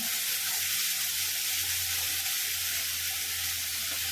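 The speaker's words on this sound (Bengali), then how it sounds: "পেঁয়াজ বাটাটা দিয়ে দিলাম।" Onion paste added to hot oil for an egg curry, giving a dense, continuous hiss-like sizzle that stays steady and loud up close, with no voices over it.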